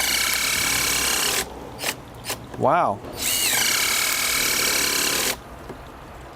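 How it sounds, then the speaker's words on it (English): A Hikoki hydraulic impact driver on its highest setting drives a screw into hardwood with no pre-drilling, a loud steady whirring hammer running about four seconds in two long bursts, with a brief spoken exclamation in between. "we're gonna just try it here on the highest setting with the hydraulic impact"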